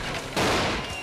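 Explosions in SpongeBob SquarePants: Battle for Bikini Bottom, a sudden loud burst of crackling blasts erupting over steady game background noise, lasting about a second.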